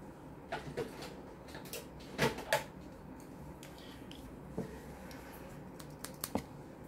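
Scissors snip and crunch at cardboard box packaging while unboxing a Samsung Gear 360 camera, a few sharp close clicks and cuts in irregular bursts over a quiet room.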